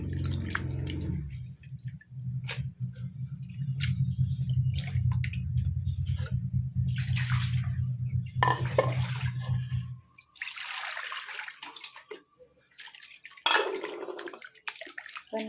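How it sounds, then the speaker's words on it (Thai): Raw shrimp are rinsed under water: a steady stream pours for about ten seconds, then gives way to scattered splashes, drips and wet handling sounds. "ล้างหลายๆ น้ำหน่อยก็ได้นะคะ"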